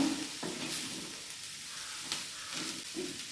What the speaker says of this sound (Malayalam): ചീര നമുക്ക് ചെറുതായിട്ടൊന്ന് ഇളക്കി കൊടുക്കാം